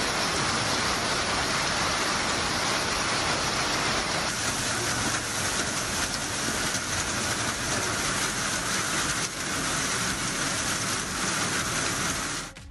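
Heavy night rain pours down steadily in Tamil Nadu, a dense, loud hiss of drops on surfaces that stays constant for the whole stretch, with no voices.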